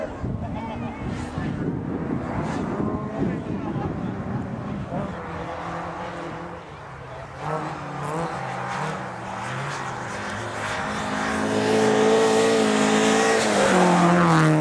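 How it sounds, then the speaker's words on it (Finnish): A rally car with an automatic transmission growls low as it heads toward the finish on a Finnish rally stage, the engine rising from a distance to a louder, closer rumble, with wind buffeting the microphone and a commentator talking over it. "matalalta murisevalla automaattipuukolla kohti maalia."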